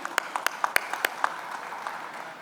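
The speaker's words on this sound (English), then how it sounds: "a big round of applause" Brief applause from an audience at a conference event for a speaker: a scattering of distinct, moderately close hand claps in an uneven rhythm that thins out and fades after about a second.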